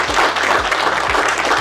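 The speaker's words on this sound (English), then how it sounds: "A round of applause for the panelists" Business breakfast audience applauding panelists at a Nairobi hotel, a short burst of crowd clapping with a steady pulsing thump running underneath.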